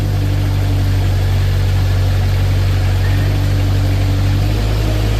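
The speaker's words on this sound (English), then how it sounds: "Mast going in and out." A 2014 Moffett M55 truck-mounted forklift runs loud and close at a steady idle, its hydraulic mast moving in and out under a deep constant engine drone with a slight pitch shift near the end.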